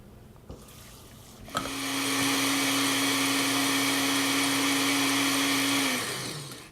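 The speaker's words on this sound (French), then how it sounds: "On va la passer au mixeur, mais cette fois-ci, juste quelques secondes." A blender puréeing gazpacho starts after a few soft clunks, whirs at a steady, loud, close motor pitch for about four seconds, then winds down.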